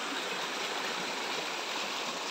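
Water flows steadily at a garden pond, a continuous close hiss of running, splashing water with no pauses and no voices.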